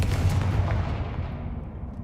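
A Confringo fire spell blasting in the video game Hogwarts Legacy, one heavy, booming impact that rumbles and fades over about two seconds.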